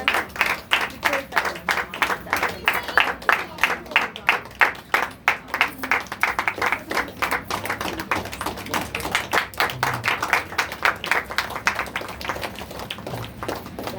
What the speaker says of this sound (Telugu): అందరం కూడా చప్పట్లు కొడుతూ ఉండగా శ్రీనన్ని ఆహ్వానిస్తున్నాం.